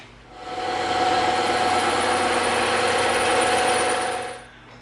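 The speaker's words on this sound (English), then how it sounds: "we're going to move over to the bandsaw and we're going to do it" A bandsaw slices steadily through EVA foam, a continuous loud whirring buzz with a gritty cutting texture that holds for several seconds before winding down.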